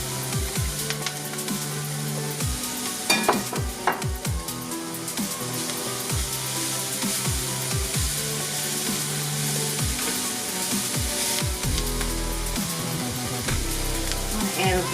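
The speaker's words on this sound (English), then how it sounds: "And we'll add our onions." Onions sizzle and crackle steadily in hot oil in a pan while being stirred for a seafood shrimp and crawfish étouffée, with scraping spoon strokes repeating throughout and no talking.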